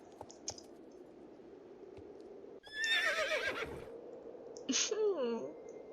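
Horse neighs in the Star Stable Online video game, a loud whinny with wavering pitch after a burst of game effects, then a second shorter whinny near the end.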